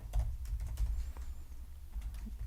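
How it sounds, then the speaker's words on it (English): Fast, close typing on a computer keyboard as an app name is entered, a steady run of crisp key clicks over a low hum, with no talking. "So I'll just type in the name of my app"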